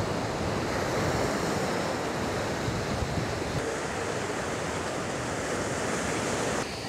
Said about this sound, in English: this is the Indian Ocean